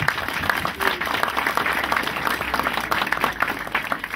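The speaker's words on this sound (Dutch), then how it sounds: "Ik vraag voor hen een warm applaus." Warm applause from an event audience for the builders and teams of de Kwakertjes and het Startblok, dense steady clapping of a sizable crowd sustained for several seconds with no pauses.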